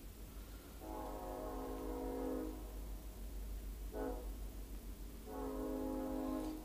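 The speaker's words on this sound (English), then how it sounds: "Hear that train coming." A distant train horn sounds three times: a long blast, a short one, then another long one, over a low background rumble.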